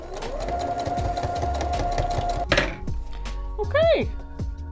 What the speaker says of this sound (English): now last thing I need to do is just fold this over and then sew it down